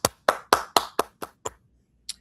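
One person claps sharply and up close, seven evenly spaced claps in a brisk rhythm that grow slightly softer, then a single final clap after a short pause.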